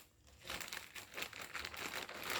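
Blunt scissors hacking open a parcel from a book delivery, a rough run of crinkling, crumpling packaging noises and scraping cuts that builds after a quiet start and stays busy and close throughout.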